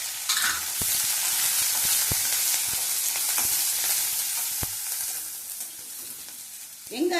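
Chopped onions and curry leaves sizzle in hot oil in a pan, a steady bright hiss broken by sharp scrapes and taps as a spoon stirs them, close and clear with no talking.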